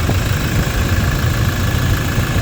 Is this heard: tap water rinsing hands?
no